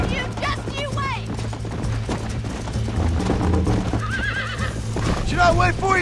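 Horses in Red Dead Redemption gallop with rapid, continuous clip-clop hoofbeats, and loud whinnies and neighs break through repeatedly, with characters' voices talking over the galloping.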